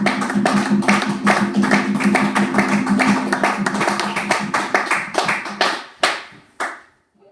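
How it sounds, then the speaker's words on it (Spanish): A church congregation claps together in a dense, steady burst of applause close by, which thins out and stops near the end. "le damos un aplauso grande a nuestro Creador"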